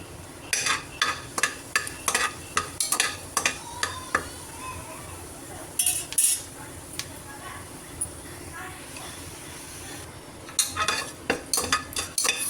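Fennel seeds, cinnamon and bay leaf sizzle steadily in hot oil for a chickpea curry while a spoon stirs and clinks against the pan in quick, irregular taps.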